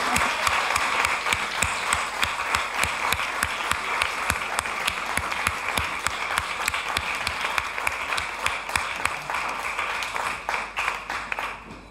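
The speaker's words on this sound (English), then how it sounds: "a huge clap for Mishal" A hall audience claps loudly and continuously for Mishal Husain after an in-conversation event, dense sharp hand claps keeping up an even rhythm throughout before tapering slightly at the end.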